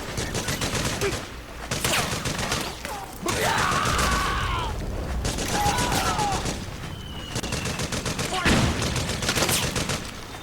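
Sustained bursts of automatic gunfire from soldiers in the video game Metal Gear Solid 4, rattling loudly and almost continuously with brief pauses, mixed with shouted voices and mechanical clatter.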